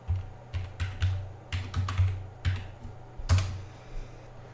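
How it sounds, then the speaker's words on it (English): Typing on a computer keyboard while working in an Ubuntu 19.04 daily build: about ten close, crisp clusters of keystrokes in a steady, uneven rhythm over a low electrical hum, with no talking. "If I start typing, there's nothing happening."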